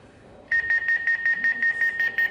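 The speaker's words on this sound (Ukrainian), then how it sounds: "У нас з'являється звуковий сигнал, який е, озвучує, що в машині недостатньо масла" A rapid series of about ten short, high electronic beeps in an even rhythm, loud and close, over a faint mechanical hum: a low-oil warning from a Jack A7-DH-7 lockstitch sewing machine.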